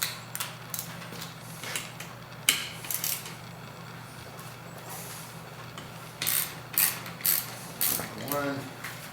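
A ratchet wrench loosens 12 mm bolts on the water pump of a Polaris XLT 600 triple snowmobile engine in a workshop, giving quiet, close clicking bursts in short irregular spurts with pauses between.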